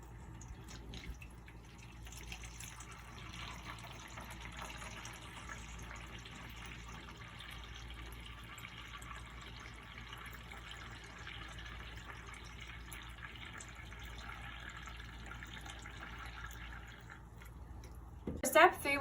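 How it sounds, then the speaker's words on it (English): Water runs steadily into a floral container holding arranging foam, a constant soft rushing fill that lasts nearly the whole stretch and ends in a brief clatter. "we're going to fill it up with water so that way your flowers have fresh water for a long time"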